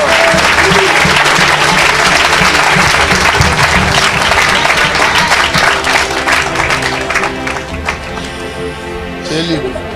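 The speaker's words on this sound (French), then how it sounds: "Clap for the Lord." Sustained loud applause from a church congregation during a supernatural-themed service, a dense roar of clapping that fills the space before thinning slightly toward the end, with voices calling out over it.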